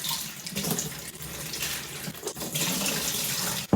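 A kitchen tap runs steadily while greens are rinsed under it, a close, continuous splashing hiss with small shifts as the leaves move, ending in a sharper knock.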